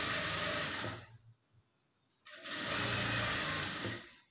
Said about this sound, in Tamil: இப்போ 1/4 இன்ச் அளவுக்கு தையல் போட்டுக்குங்க